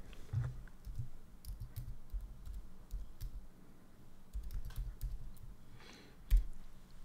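Quiet, close tapping of a computer keyboard comes in short clusters of keystrokes with brief gaps and the odd louder click, with no voices over it.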